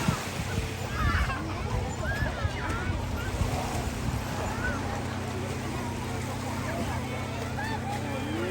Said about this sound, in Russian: Так, лодка пошла.